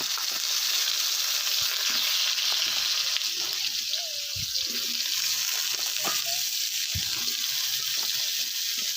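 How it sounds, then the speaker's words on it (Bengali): Plantain and potato frying with tempering spices and chilli in a pan, a steady broad sizzle throughout with a few soft clinks and stirring knocks, close and moderately loud. "ফোড়নটা একটু ফ্রাই হয়ে গেলে লঙ্কাটা আমি কলা আর আলু দুটোই দিয়ে দেবো"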